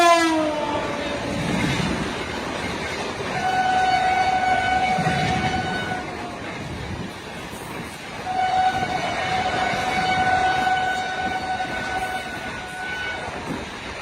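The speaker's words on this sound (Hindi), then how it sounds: "और बड़ी ही तेजी से कोई ट्रेन कानपुर की तरफ से आ रही है।" A train approaching fast from the Kanpur side on the Ait to Konch line in Jalaun, sounding repeated long horn blasts over a rumbling, clattering run of wagons, loud and close.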